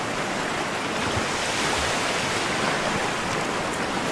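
Sea waves break and wash on a shore in a steady, loud, broadband roar that continues without pause, with no voices heard.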